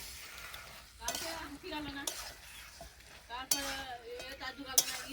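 Chicken braises in a pan, a steady sizzle broken by scraping stirs and clanks of a utensil against the pan, with a voice speaking over the cooking at intervals.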